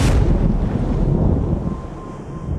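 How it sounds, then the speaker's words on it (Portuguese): Strong wind gusting through the Sierra Nevada mountains, a loud, steady roar with buffeting at the microphone, building and easing slightly over a few seconds with no other sounds. "um vento forte sopra e sua paz é destruída"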